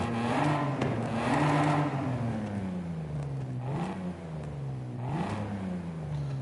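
A swapped engine in a car in Forza Horizon 5 revs up and down in repeated rising and falling sweeps, loud and close, with no talk.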